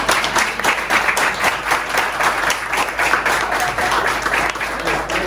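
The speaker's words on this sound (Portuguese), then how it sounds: "você puxa as palmas" An audience claps steadily after a talk on people management, dense and loud applause that stays even for several seconds with no one speaking.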